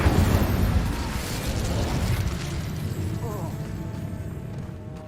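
Incendio fire spells cast in Hogwarts Legacy erupt as a dense run of loud, booming bursts and crackles, with voices running underneath.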